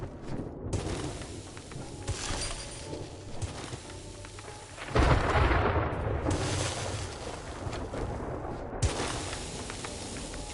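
A thunderstorm in the survival game 7 Days to Die, with steady wind and rain noise throughout and a loud rumbling thunder swell around the middle, then continuing broadband storm ambience.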